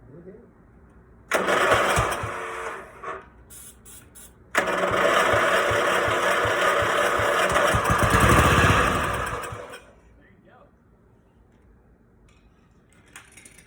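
A Deutz-Allis 1312H zero-turn mower engine with a rusted, corroded flywheel stator cranks and catches, dies briefly, then restarts and runs loud and close for about five seconds before shutting off into near quiet.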